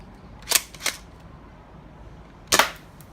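An AC870 Mad Max airsoft shotgun fires at a cardboard box: three sharp snapping shots, two close together and one after a pause, each a crisp crack against a quiet background.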